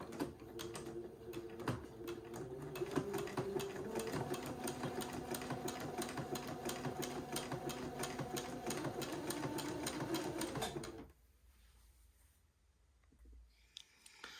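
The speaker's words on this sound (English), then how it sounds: "I'm going to zigzag along the length of the entree ladder again." A sewing machine runs a zigzag stitch along a fabric ladder strip, a close, steady rapid mechanical whirring and ticking for about eleven seconds before it stops, leaving faint room noise.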